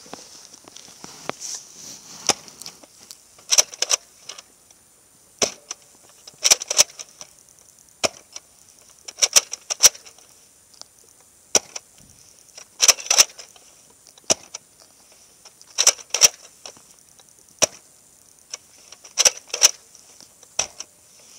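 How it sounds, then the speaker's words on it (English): A Nerf N-Strike Elite Longshot blaster fires six shots in quiet surroundings, each a sharp close snap with priming clacks, in short clusters spaced a few seconds apart. "Instrike Elite long shot and how far it goes. Let's get started. I'll do 3 flat shots and 3 angled shots."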